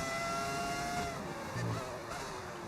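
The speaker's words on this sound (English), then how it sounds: "The engine sounds like a V10 because I have got a V10 in my car." A V10 Formula 1 car engine in the F1 25 racing game, at the Abu Dhabi Grand Prix, holds a steady high-pitched whine that is fairly faint under a busy, rushing background of track noise.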